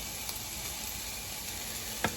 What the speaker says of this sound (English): And as you can hear, in the meantime, the onions are cooking